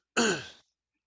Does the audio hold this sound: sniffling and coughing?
yes